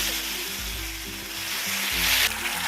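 Poppy seed and cashew masala fries in a pan with a steady close sizzle and some low bubbling, growing slightly louder toward the end.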